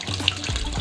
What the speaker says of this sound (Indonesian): Lalu daun dicuci dengan air mengalir.